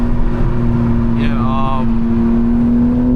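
A BMW M4 Competition's exhaust gives a steady, close-up engine drone, with a brief rising whine that sweeps up and settles midway through.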